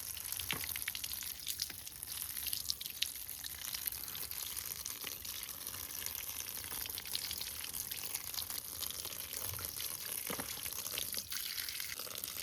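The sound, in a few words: rinsing a BMC motorcycle air filter under tap water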